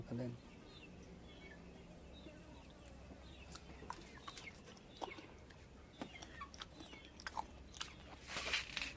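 Someone bites into and chews fresh wet cashew nuts from Devgad, giving soft, moist crunches close to the microphone over faint background ambience, with chickens clucking in the distance.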